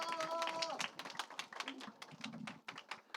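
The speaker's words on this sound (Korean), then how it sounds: "우리 박수로 우리 함께 환영하도록 하겠습니다" At a combined middle and high school church service, a congregation gives short, scattered clapping to welcome a speaker. A brief tone sounds at the start, and the claps stay uneven and fairly quiet.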